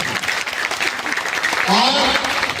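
An audience at an Indian political thank-you function applauds to welcome a speaker, a crowd clapping under someone talking over a microphone, with the clapping swelling louder near the end.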